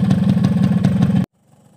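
Two-stroke motorcycle engine running on Gasoli Racing 2T oil, warmed up, a loud buzzy idle with fast steady firing pulses close by, cutting off abruptly near the end.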